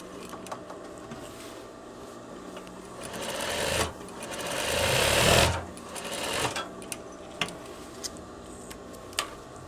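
A sewing machine stitches double seams on a veterinary coverall, with a buzzing run that swells over a few seconds and stops, followed by short clicks and handling taps.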